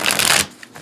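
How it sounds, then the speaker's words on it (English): A quick rapid riffle shuffle of tarot cards flicking together, a brief crisp fluttering burst that stops abruptly. "But you can definitely get a lovely rifle shuffle"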